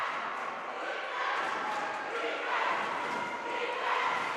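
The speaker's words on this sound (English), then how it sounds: "You hear the crowd going crazy." Spectators at a Lincoln girls basketball game against James Madison cheer and roar continuously, a dense, loud crowd swell filling the gym with no break.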